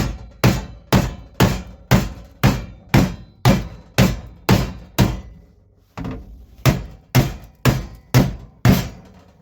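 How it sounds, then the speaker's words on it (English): A big rubber hammer pounds a metal floor panel on a Z28, striking about sixteen times in a steady rhythm with one short pause partway through. Each blow lands as a loud, close, ringing thunk. "I just use the big rubber hammer to bang it in"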